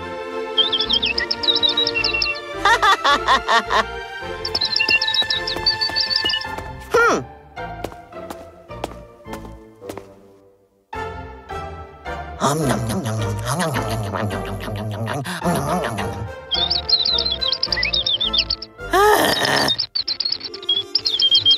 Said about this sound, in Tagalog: Nakakainis naman ang ingay ng ibon na to